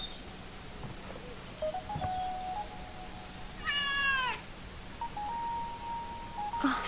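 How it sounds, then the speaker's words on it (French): A black cat meows several times in the video game Dordogne, a pair of soft cries followed by a louder, drawn-out meow over a quiet ambient background. "Oh, ça doit être le chat de Nora."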